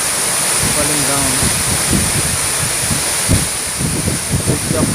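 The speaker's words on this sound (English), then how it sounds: "How the waterfall is" Rimbi waterfall in Sikkim rushes in a loud, constant roar. A voice talks briefly over the falling water.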